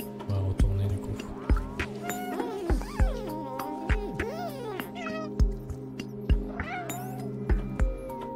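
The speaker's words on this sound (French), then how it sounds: "Je pense que c'est à force de faire miaou miaou." Cat meowing in the Stray game, several drawn-out, varied meows and yowls over steady background music and recurring percussive hits.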